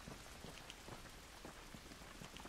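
Steady rainfall in The Last of Us video game, a dense, even patter of drops on surfaces with scattered louder splashes, continuous and soft without any speech.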